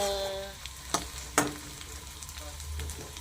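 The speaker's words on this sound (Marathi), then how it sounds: "मी का नाही कांदा परतून घेत आहे" Onion sautéing in a pan for a spicy potato chip sabzi, a soft steady sizzle with a few sharp stirring clinks near the start, close and moderately quiet, with no talking.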